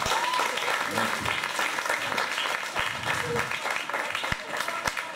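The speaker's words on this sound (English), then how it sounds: "another round of applause for my friend" Audience applause at a stand-up comedy night, a dense, steady wash of clapping from a crowd that fills the whole stretch, with a few sharp low thumps and some voices mixed in.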